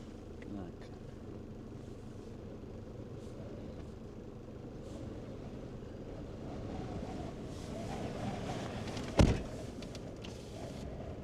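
Strong wind buffets an outdoor microphone at the Sundhnúksgígar eruption area in Iceland, a steady close low rumble lasting throughout with one sharp loud knock near the end, while people talk over it.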